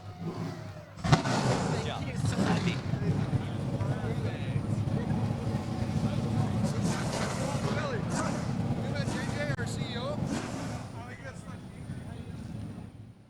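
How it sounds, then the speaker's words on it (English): APC United Late Model race cars fire up together at Delaware Speedway, a sudden loud start followed by a dense, continuous roar of multiple engines revving and idling close by, with crowd or announcer voices mixed in. "Drivers, start your engines!"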